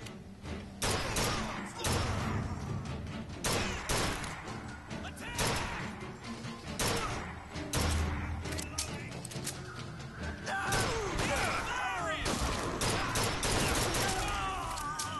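Repeated gunshots from Bioshock Infinite, a first-person shooter, ring out in irregular bursts of sharp cracks and thuds, some close and loud and others overlapping, over constant game background noise for the whole stretch.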